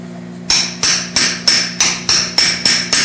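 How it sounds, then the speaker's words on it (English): A hammer strikes a hot chisel cutting hot steel clamped in a blacksmith's vise, eight sharp metallic blows in an even rhythm, loud and close, with a steady hum underneath. "use my hot chisel,"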